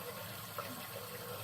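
Water splashes faintly and briefly as a face is rinsed with a washcloth after removing makeup with coconut oil, a soft trickling wash lasting barely a second and a half.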